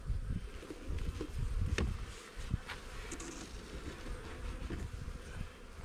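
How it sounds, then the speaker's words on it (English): A thick, continuous buzzing of many honey bees swells and wavers close by around an open hive, with soft rustling and a few low bumps underneath. "They got bees everywhere."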